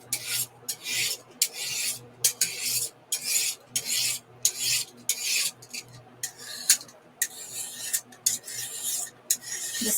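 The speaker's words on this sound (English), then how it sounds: "This is how I sharpen my knife." A knife is drawn through a handheld blade sharpener in quick rasping strokes, about fifteen short scrapes in an uneven rhythm, close and clear with no talk over them.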